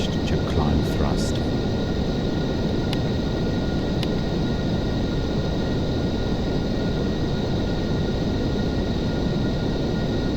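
Boeing 747 engines hold climb thrust in the Aerofly FS 4 simulator, a loud, steady, broadband roar filling the whole stretch, with a few faint clicks near the start.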